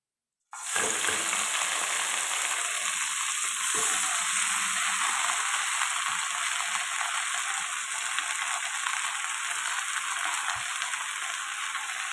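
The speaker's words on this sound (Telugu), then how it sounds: "మళ్ళీ అదే కడాయి పెట్టుకొని ఆకు అయితే ఫ్రై చేసుకుందాం" Gongura leaves hit hot oil in a kadai with a sudden burst of loud sizzling, then fry on in a steady crackling hiss, with a few soft scrapes of stirring.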